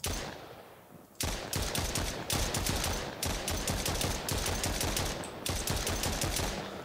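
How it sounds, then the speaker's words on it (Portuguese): Rapid bursts of automatic video game gunfire, firing at an approaching killer in a home-defense game, chatter on in steady near, loud volleys with short gaps after a brief quiet opening. "Agora vamos já começar atirando quando eles chegar na nossa direção."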